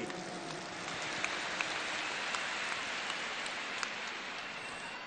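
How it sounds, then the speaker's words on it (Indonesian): Steady applause from a sizable crowd at a large political campaign rally fills the whole stretch, dense and continuous, with occasional sharper claps standing out; no one speaks. "Tepuk tangan untuk semua yang memilih hadir di sini."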